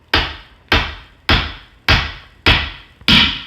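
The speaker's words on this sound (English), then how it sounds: "we often did have to get his help hammering the connectors in because he's stronger than either of us" Hammer blows driving connectors into a habitat build, six loud, sharp strikes spaced evenly about half a second apart, each with a quick decay, close and with no voices.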